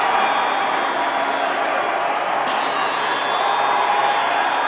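High school boys varsity hockey crowd at a rink reacting after a shorthanded goal: a dense, sustained roar of cheering and whoops with scattered clapping, steady and loud throughout.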